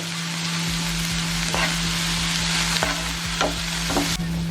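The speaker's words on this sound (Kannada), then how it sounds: "ಒಂದು ಈರುಳ್ಳಿ ಹಾಕಿ ಫ್ರೈ ಮಾಡಿ" Onion and green chilli fry in a pan with a steady crackling sizzle and a low steady hum beneath, and a few sharp stirring knocks at intervals. No one speaks.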